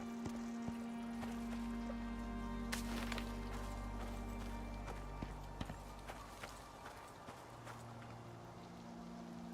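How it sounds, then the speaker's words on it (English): Horses gallop in the survival game Icarus, a run of quick irregular hoof thuds over steady ambient wilderness noise, moderately near and fading toward the end. "We will avoid those horses at all cost."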